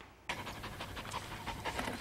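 A small female schnauzer mix dog, once a paralyzed puppy, pants close by in quick, rhythmic breaths that begin after a brief hush and keep going steadily.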